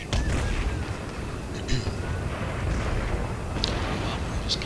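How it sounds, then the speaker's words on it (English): Distant artillery fire in Empire: Total War, muffled booms and bursts scattered over a dense battlefield rumble, fairly faint and with a voice speaking over it. "Seems to be attacked by artillery."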